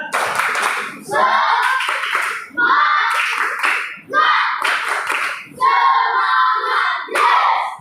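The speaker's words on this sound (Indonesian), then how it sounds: "Kalau saya angkat tepuk semangat, tepuk semangat" Schoolchildren in a classroom perform a 'tepuk semangat' spirit clap, a rhythmic clapping routine in short bursts mixed with loud chanted young voices.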